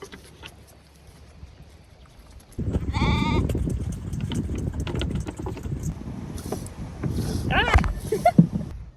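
Sheep on a small farm bleat a few times, near and fairly loud, over a steady rushing wind-like noise that starts abruptly and continues throughout.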